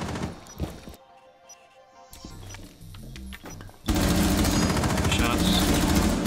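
Gunfire in the video game Rainbow Six Siege, a few sharp shots early on, then a sustained loud burst of rapid automatic fire dominating the final seconds, with game sounds between.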